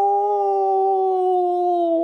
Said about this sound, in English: And it was howling.